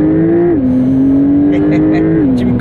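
A 700-horsepower sports car pulls away hard from inside the cabin, its loud engine note rising steadily with a gear change partway through, as voices chatter over the drone.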